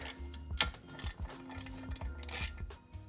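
A wrench undoes 8mm bolts on the supercharged throttle body of a Range Rover L322, giving close, quiet metallic ratcheting and clicking in short irregular bursts with small knocks between them.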